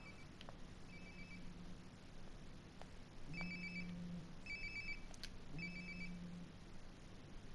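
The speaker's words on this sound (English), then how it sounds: "Sounds like my phone is definitely nearby." A mobile phone rings nearby in Life is Strange: Before the Storm, a repeating electronic ringtone in regular bursts, fairly quiet, with no talking.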